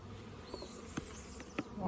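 Honey bees buzz around an observation hive outdoors in Dominica, a close, continuous droning hum with individual bees flitting past, fairly faint.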